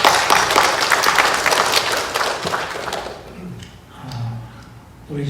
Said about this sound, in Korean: 우리 크게 환영의 박수 하겠습니다